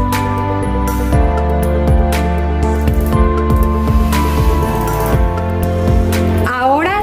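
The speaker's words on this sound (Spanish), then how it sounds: "Y vamos a licuar." A kitchen blender purées tomatoes, onion, garlic and water with a loud, steady motor whine and rhythmic chopping pulses, then the motor winds down near the end.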